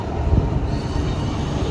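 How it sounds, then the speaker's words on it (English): British Rail class train 15234 arriving at a station on the Newquay line in Cornwall, a steady low rumble of wheels and engine rolling in close by, continuous throughout with no voices. "And arriving here is my train."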